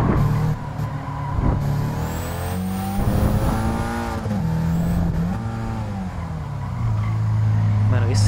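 Nissan Silvia engine racing in Gran Turismo 7, a loud, continuous game engine note that rises and falls through gear shifts and revs, with a player talking over it.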